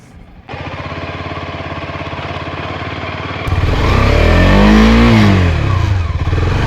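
An adventure motorcycle stuck in mud, its engine idling with a fast steady thrum, then revving harder and louder into a rising, straining roar that swells and eases, close by and with no voices over it.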